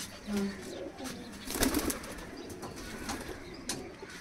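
A Rajshahi Giribaz pigeon gives a couple of faint, brief coos, with a soft flutter of movement, over quiet background noise and low voices.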